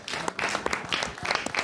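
Audience applause at a Romanian folk-tradition gathering, a brief, fairly faint patter of many hands clapping together.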